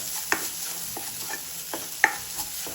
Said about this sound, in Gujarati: વટાણા કાચા ના રાખે ત્યાં સુધી આપણે એને શેકી લઈશું